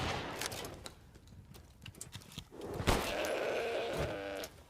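Repeated bleating from goats in the video game Resident Evil Village, wavering calls over a busy bed of game noise and clicks, growing louder toward the end before cutting off.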